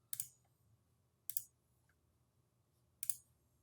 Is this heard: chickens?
no